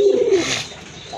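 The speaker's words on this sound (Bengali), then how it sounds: "খুবই সুন্দর এক জোড়া কালারফুল কোয়ালিটিফুল এক জোড়া ম্যাকপাই কবুতর" A pair of magpie pigeons gives one low, soft coo, close and clear, with a faint breathy rustle after it and no talk.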